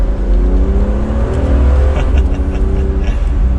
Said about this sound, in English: All right, final acceleration, throttle response is like instant.